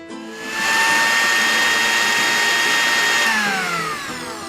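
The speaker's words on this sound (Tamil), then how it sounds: "இப்போ நம்ம grind பண்ணிடலாம்." A mixer grinder grinding curd rice whirs loudly at high speed for several seconds, its motor pitch sliding down as it winds off near the end.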